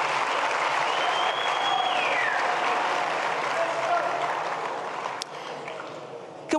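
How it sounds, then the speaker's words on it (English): Audience applause follows an unplugged performance, filling the space as a dense, steady clapping wash that fades slightly toward the end, with a few sharp knocks near the close. "They certainly deserve a round of applause."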